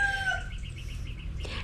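Ulikba chickens, white birds with tall crests, call at close range: a rooster's drawn-out crow sweeps through the opening half second, then a steady run of short clucks follows and ends in a sharper squawk.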